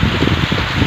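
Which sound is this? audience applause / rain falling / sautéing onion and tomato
rain falling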